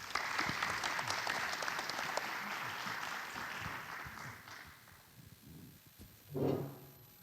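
Audience applause at the opening ceremony of a 2023 Korean smart water grid academic conference: a dense, steady round of clapping from a large crowd that gradually thins and fades over several seconds, followed by a brief low murmur.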